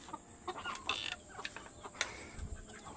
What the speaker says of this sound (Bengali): দেশি মুরগির খামার